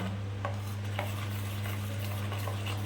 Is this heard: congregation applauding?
no